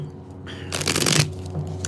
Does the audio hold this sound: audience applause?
no